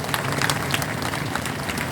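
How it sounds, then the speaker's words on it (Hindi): A large crowd at a Republic Day event gives loud, dense applause for Haryana Police commandos, continuous clapping filling the whole moment. "जोरदार तालियां बजाएं हरियाणा पुलिस के कमांडो के लिए"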